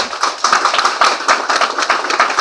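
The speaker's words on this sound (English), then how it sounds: "I'd like you to give a round of applause to these great candidates that are all here today." Audience applause for a group of Democratic candidates at a Florida House District 79 campaign event, a dense, steady wash of many hands clapping at close range that fills the moment without any talk.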